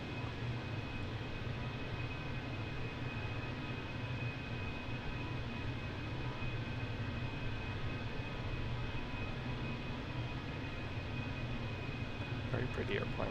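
Frontier Airlines Airbus A321 heard from outside, a loud, steady broadband engine roar with a low rumble that holds throughout, with a faint rising tone near the end.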